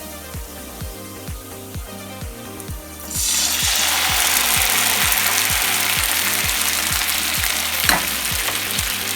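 Onions sizzle and fry in a pan alongside a steady rhythmic ticking, the sizzle swelling louder and hissier after a few seconds.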